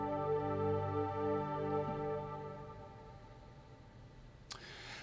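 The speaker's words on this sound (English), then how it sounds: "That's actually a modded sound. I think it was called Wide Prophets or something like that." A warm, wide modded Omnisphere synth pad called Wide Prophets, played on keyboard as a sustained chord that rings with rich layered harmonics and slowly fades, soft and alone.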